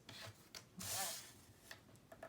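A blade scores a wooden board, making a few short dry scraping strokes with one longer rasping pull in the middle, close and fairly quiet.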